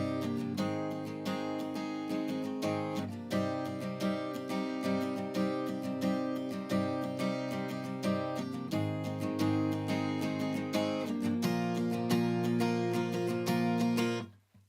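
Acoustic guitar strummed steadily through the bridge chord progression of a song, ending on a G, in a driving rhythm pattern for about fourteen seconds, loud and close, with no talking, before cutting off abruptly.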